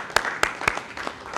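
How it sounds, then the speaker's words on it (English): A small audience at a Maryland political event claps briefly, a few sharp, separate hand claps standing out over a thin background of scattered clapping. "Can we get another round of applause?"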